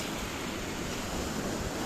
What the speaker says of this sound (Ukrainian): незважаючи на те, що море нібито штормить